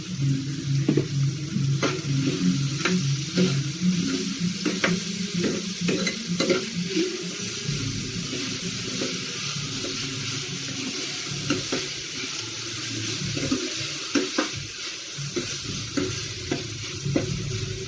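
Onions fry in a pan for a tomato chutney, sizzling steadily while a spatula stirs and scrapes in repeated close strokes, with no voices.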